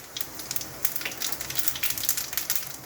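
Dried red chillies and cumin seeds frying on low gas in a pan, a steady crackling sizzle with rapid little pops, close and moderately quiet, no voices.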